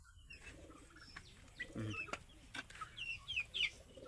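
Hens cluck softly in short bursts, with a few sharper chirpy calls and light rustling in a quiet coop.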